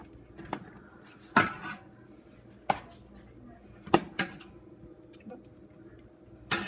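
Food being flipped in a pan with tongs, producing several sharp metallic clacks and scrapes spaced irregularly a second or so apart, close and fairly loud over a soft sizzling background.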